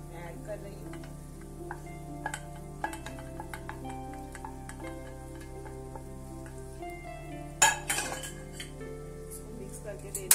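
Cooked rice is tipped into a tomato mixture in a pot and stirred, bringing soft scrapes and metal clinks against the pot over steady background music, with one louder clatter partway through.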